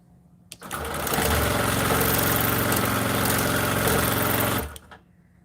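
A sewing machine quilts a peacock design, a steady mechanical whir that starts abruptly, runs evenly for about four seconds at a constant speed, then stops, with no voices.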